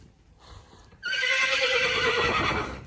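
A horse whinnies loudly and at length from close by, following a brief stretch of quieter background noise with faint hoof sounds.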